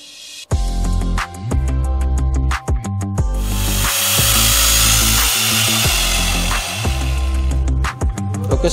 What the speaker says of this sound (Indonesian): Dan kita bisa gerinda di sini pada posisi marking tadi ya.